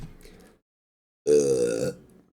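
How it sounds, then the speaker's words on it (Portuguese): One loud, close burp, short and throaty, following a moment of quiet after brief speech. "Eita que arrotei."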